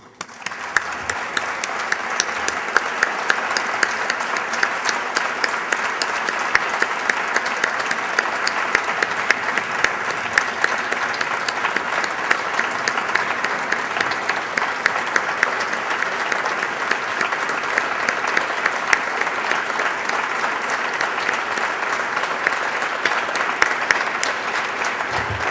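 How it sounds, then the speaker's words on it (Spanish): Sustained audience applause at an institutional centenary tribute ceremony for playwright Buero Vallejo, a dense steady clapping from a large crowd that holds evenly for the full length without a break. "el aplauso de agradecimiento que todos le debemos"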